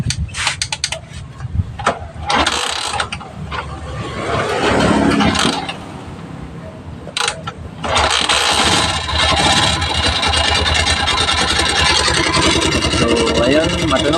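A Yamaha SZ motorcycle engine with its starter removed is kicked over, sputtering through a few bursts before catching and running steadily with a rough abnormal mechanical noise, close and loud, while someone talks at times.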